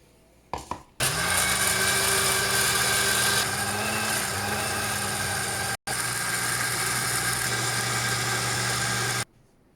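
An electric kitchen grinder blends mint chutney, its motor starting with a jolt and then running loud and steady for about eight seconds, briefly cutting out once before whirring on and stopping abruptly.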